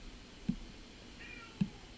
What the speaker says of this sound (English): and that's my cat meowing back there.